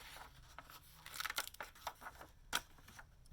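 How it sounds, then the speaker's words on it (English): An X-Acto knife drawn softly through a page of a thin, flimsy paper journal, producing faint close scratchy tearing and crinkling strokes in short irregular bursts, with no talk. "I just take my little X-Acto knife here, and I just go very softly"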